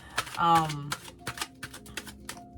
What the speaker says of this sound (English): I wasn't shuffling the way I was supposed to shuffle.